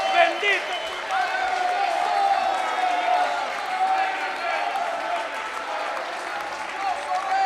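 A church congregation applauding during a worship service, a sustained wash of clapping and crowd noise with voices mixed in, moderately loud and continuous.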